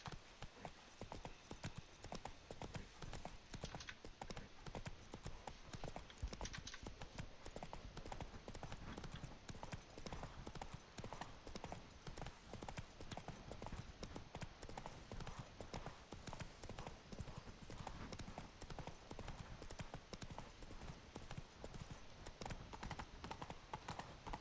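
Roach the horse from The Witcher 3 gallops in a steady, rapid clip-clop of hooves on ground, continuous and faint throughout.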